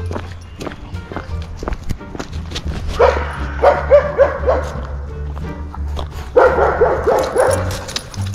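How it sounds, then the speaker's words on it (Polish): A German shepherd guard dog barks in loud repeated bursts, clustered in two bouts, with footsteps and movement audible between them. "szczekającego owczarka niemieckiego"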